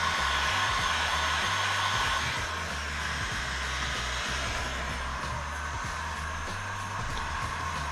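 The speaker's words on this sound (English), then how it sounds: "I'm just gonna leave that heat gun on." A heat gun runs steadily while a pistol magazine is being finished, a loud, even blowing whir with a low hum underneath that carries on alone for several seconds.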